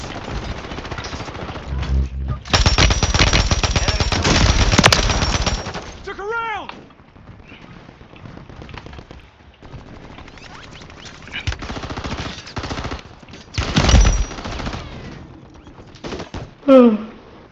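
Gunfire in the video game Warzone 3 Plunder mode, loud bursts of automatic fire and single shots alternating with quieter stretches, with electronic game sounds and chirps between volleys.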